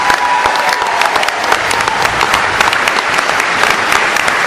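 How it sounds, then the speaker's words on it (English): Steady, sustained applause from an audience honoring county sheriffs at a public gathering, dense and loud throughout with no pause, a constant wash of many hands clapping at once. "Give them a round of applause."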